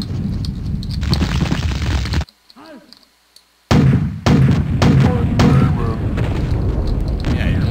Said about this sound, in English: Dead because I lobbed rockets at your face.